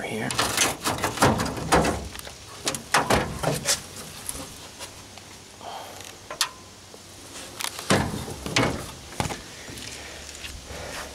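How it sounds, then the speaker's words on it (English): Side door of a shed creaks and clunks open, with several sharp knocks and rattles of the door and hardware close by, mixed with someone talking nearby. "Open the side door here."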